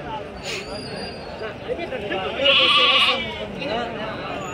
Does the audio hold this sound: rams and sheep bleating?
yes